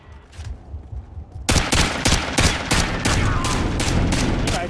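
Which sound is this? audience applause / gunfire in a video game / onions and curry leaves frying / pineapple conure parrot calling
gunfire in a video game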